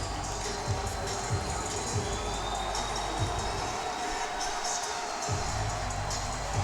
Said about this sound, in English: Jesuit faithful cheering their guys on for 3rd and long.